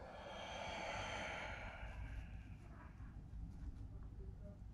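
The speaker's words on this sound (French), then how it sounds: "Je souffle." One slow, breathy exhalation during a breathing exercise, a soft airy rush that swells and fades over about two seconds, followed by quiet room tone.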